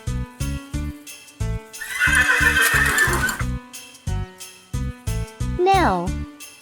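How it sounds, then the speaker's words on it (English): A horse neighs loudly over a steady, even beat of backing music at a children's farm-animal song, with a clear descending whinny near the end and a burst of noisy texture before it. "Horse."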